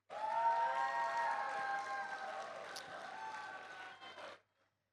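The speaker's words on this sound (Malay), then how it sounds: "Satu tepukan untuk Prof." Audience applause for Prof. Rahman at a Malaysian university symposium ceremony, a dense burst of clapping that runs steadily for about four seconds, with faint tonal voices or cheers mixed in, then stops abruptly.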